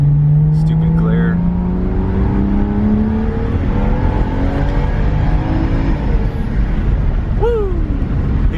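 A car engine fitted with an XHP tune revs and accelerates, heard from inside with the windows down, a steady droning roar climbing in pitch through gear changes, with a person talking over it.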